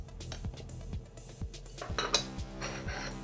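Coconut oil, shea butter and cocoa butter dropped into a double boiler pot for soap making, several separate dull thuds and metallic clinks in quick succession, close and alone.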